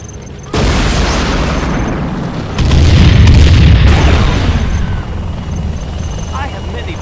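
A nuclear missile launches and detonates in Command & Conquer Generals Zero Hour: a loud, sustained broadband roar begins abruptly, then swells into a heavier rumbling blast that gradually tapers off.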